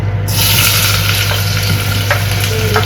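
Sliced onions fry in oil in a pan for a chicken pulao, a loud, dense, continuous sizzle heard up close with a few faint clinks and no talk.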